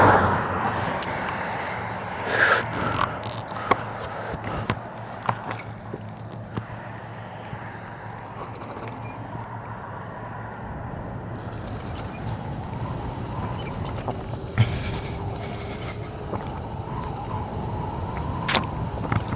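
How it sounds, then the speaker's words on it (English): A car on a wet road approaches and drives past, its engine and tire hiss building gradually and then fading, with a few sharp knocks and clicks from nearby along the way. "Okay, there's another car coming too."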